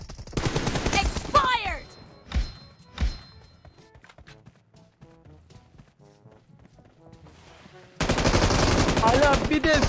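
Video-game gunfire crackles in rapid bursts early on, several sharp shots standing out before a quieter stretch, then a dense loud barrage returns near the end; game sounds and faint voices mix in.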